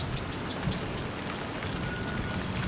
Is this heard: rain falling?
yes